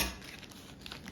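Brief, faint crinkle of wax paper being handled while preparing to drizzle pink and white coating onto chocolate-covered Oreos.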